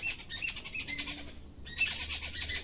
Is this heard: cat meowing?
no